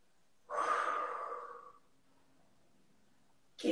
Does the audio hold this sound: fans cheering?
no